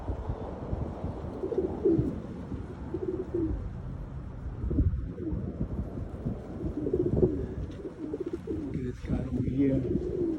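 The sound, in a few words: birds calling and cooing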